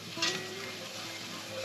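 Flour is stirred into melted butter and fat in a pan while frying squirrel, a close, steady sizzle under a scraping stir, with one brief brighter scrape near the start.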